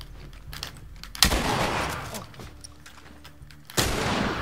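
Gunfire in The Last of Us, two sharp, loud shots a couple of seconds apart, each followed by a lingering burst of noise over faint game ambience.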